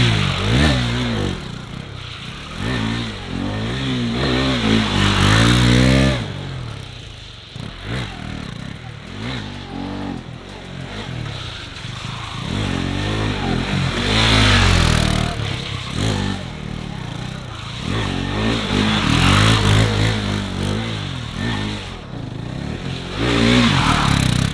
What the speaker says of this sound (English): they are too grippy, so it's not a really right setup for doing drifts with the RC